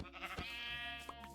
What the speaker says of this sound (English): And another sheep. Wow, so many animals.